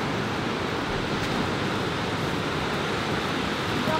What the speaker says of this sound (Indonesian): Nah, ini dia pantai tersembunyinya.